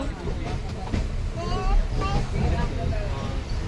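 Steady rumble of a moving passenger train from inside the carriage, travelling through the Kasara Ghat near Igatpuri, with rhythmic rattling and faint voices in the background.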